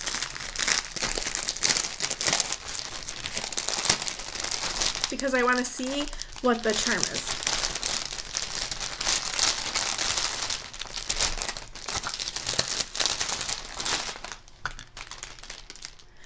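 Plastic packaging crinkles and rustles loudly and continuously, close by, as a skein of hand-dyed yarn is unwrapped, with someone speaking briefly over the crackling.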